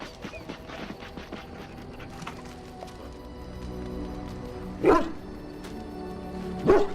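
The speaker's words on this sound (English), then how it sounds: "He bounces around, barking excitedly." A dog in the video game Dragon Age: Origins bounces around and barks excitedly, with two louder bark-like bursts near the end over steady game ambience and background sound.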